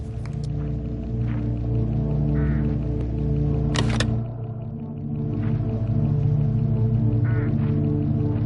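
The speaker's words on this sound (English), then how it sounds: "Look, hooded crows all along this road." Hooded crows caw along a roadside in the Hitchhiker video game, a few bird calls standing out over a steady droning game ambience with continuous low hum.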